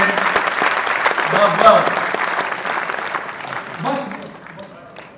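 An audience at a Hindi poetry recital (kavi sammelan) claps loudly and continuously. Voices call out in praise over the applause, which thins out toward the end.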